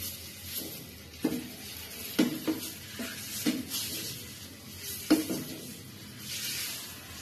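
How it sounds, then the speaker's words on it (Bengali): Eggs frying in a pan for a Bangladeshi egg curry, giving a soft, steady sizzle broken by several sharp clicks and taps of a utensil against the pan. "এখন আমি ডিম দিয়ে দিব।"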